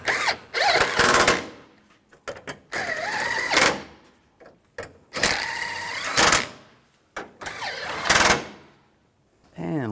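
A power drill drives bolts tight on a 2007-2013 Chevrolet Silverado bumper end in several loud, close bursts of whirring, each ending in a short stop, separated by brief pauses.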